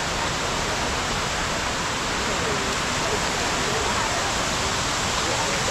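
Cave Falls in Vagamon pours down in a dense, unbroken roar of falling water, loud and even from start to finish over nearly six seconds.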